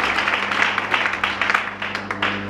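Church congregation clapping together, a steady dense patter of many hands filling the room with loud, continuous applause and sharper individual claps standing out.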